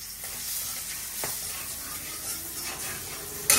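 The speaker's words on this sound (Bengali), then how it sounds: "গরম হয়ে গেছে, এই দিয়ে দিলাম জিরার ফোড়ন" Cumin seeds tempering in hot oil with salt, turmeric and green chili in a pan, giving a steady close sizzle and hiss with a brief louder spatter at the end.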